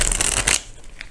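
Tarot cards shuffled in quick, close riffling bursts that rustle for about half a second, then stop, leaving a quiet pause with one faint tap.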